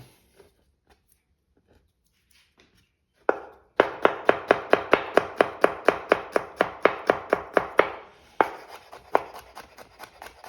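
A knife chops food on a board, with a few quiet taps and then a fast, even run of crisp strikes, close and clear, followed by slower scattered chops and no speech.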